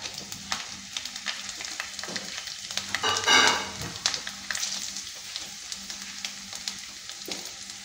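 Dried red chilli pieces, peeled garlic cloves, tempering spices and cumin sizzle and crackle in hot oil, a steady frying hiss with a brief louder burst of spattering midway, close and continuous with no talk.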